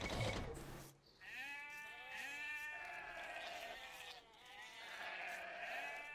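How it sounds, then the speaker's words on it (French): Sheep in the strategy game Age of Empires bleat in several overlapping wavering calls that carry on steadily. Faint mechanical game sounds run beneath them. "il me semblait que j'avais entendu le bruit des nouveaux moutons."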